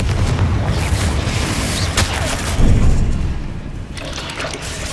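Confringo explosive spell blasting in the Hogwarts Legacy game, a loud booming burst over dense game noise with a sharp crack near the middle.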